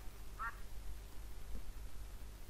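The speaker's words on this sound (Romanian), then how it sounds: "Oh, o rață" A single short duck quack from a video game, faint and distant over a low steady background hum, followed by a fainter second call.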